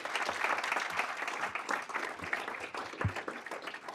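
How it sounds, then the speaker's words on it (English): An audience at a speaking event claps in a sustained, dense round of applause, moderately loud and even over four seconds. "Give them a great big round of applause."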